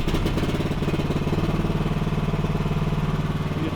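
A Chinese mini excavator's small engine runs steadily at full throttle, a loud continuous rattling drone with regular pulsing throughout, close by and alone.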